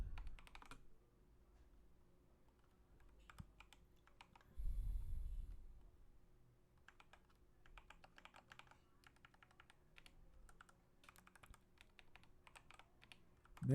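Steady typing on a computer keyboard during a programming session, with bursts of clicking keystrokes in uneven rhythm, a brief louder low rumble partway through, and no speech.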